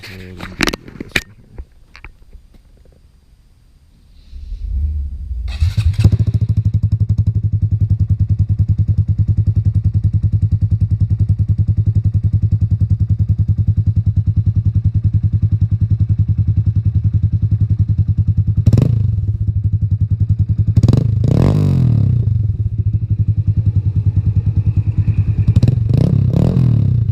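Motorcycle with a replaced exhaust pipe, started after a few clicks and quiet handling, then idling steadily with a low throbbing rumble close by, punctuated by a few sharper blips and clanks.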